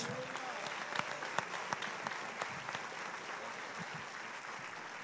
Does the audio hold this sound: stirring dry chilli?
no